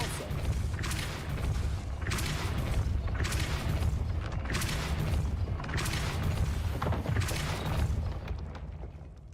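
The Depulso force-push spell in the Hogwarts Legacy video game fires in repeated deep whooshing booms, about six regularly spaced bursts over a continuous low rumble, loud and close.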